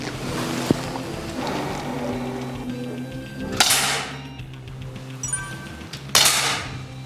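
Sharp gunshots at a shooting range during a lesson from a former national team shooter, with three loud reports spaced a few seconds apart over steady background noise.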